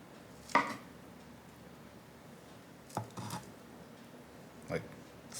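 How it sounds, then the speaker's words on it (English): A knife cuts the ends off sweet potatoes in a kitchen: three separate, close chops spread out in time, with quiet room noise between them. "you wanna cut off the ends and any black marks"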